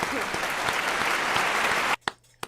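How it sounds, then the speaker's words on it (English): A studio audience on a television talk show claps and cheers loudly and steadily, the dense applause cutting off abruptly near the end, followed by a couple of faint isolated sounds. "I want to give Sally a cheer on that"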